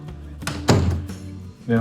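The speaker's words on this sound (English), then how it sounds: "Now the door" A repaired wooden door closes with a single solid thunk at close range, after its stripped hinge screw holes were plugged with wood, with a person talking over parts of it.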